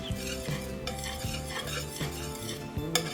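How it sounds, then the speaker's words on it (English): Mac and cheese is stirred in a pot as the cheese melts, giving steady scraping and clinking of a utensil with soft sizzling underneath, close and continuous without speech. "So then you just continue to mix. We're going to mix this all together."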